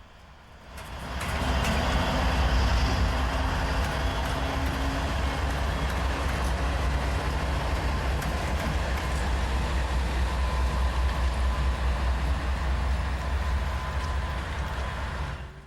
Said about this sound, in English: Trains run up and down the track